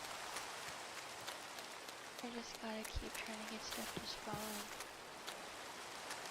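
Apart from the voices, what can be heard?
rain in Minecraft Cobblemon video game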